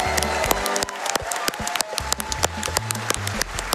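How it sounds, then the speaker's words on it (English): An audience at a speedrun marathon event claps in scattered, uneven bursts, a steady patter of individual hand claps filling the room without voices on top. "Please clap."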